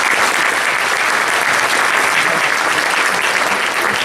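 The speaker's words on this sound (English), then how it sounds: "so a round of applause for them." Audience applause at a school winter concert, a sustained, even wash of clapping from many hands.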